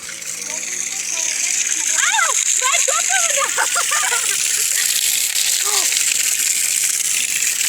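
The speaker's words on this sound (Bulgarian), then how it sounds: "Тук има и чешма." An outdoor fountain outside a hotel pours warm water in a steady, close rushing hiss, with children's voices chattering over it.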